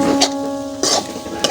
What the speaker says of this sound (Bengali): নারকেলগুলো দিয়ে আরো কিছুক্ষণ ভেজে নিতে হবে।